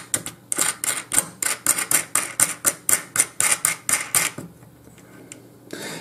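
Steel nuts being threaded by hand onto six bolts of an LED controller assembly, giving a fast, even run of crisp metallic clicks at close range that stops abruptly, leaving a quiet pause.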